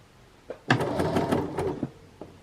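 A sewing machine stitching a dress bodice runs in a quick burst of rapid mechanical stitching for over a second, with a few soft clicks before and after.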